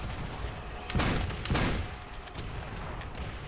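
DP-28 machine gun fire in World at War, two loud, short bursts of rapid automatic shots over a constant background of game noise.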